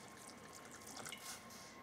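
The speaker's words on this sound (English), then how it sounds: "We're going to pour about 1/2 cup of wine into this." Pinot Noir wine is poured into turkey gravy in a pan, a faint, steady liquid trickle with soft splashing and drip-like sounds heard alone.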